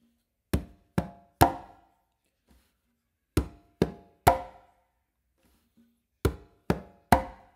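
Conga clave independence exercise: a low bass stroke with one hand and close slap strokes with the other, played in three sharp groups of three hits separated by pauses, close and alone.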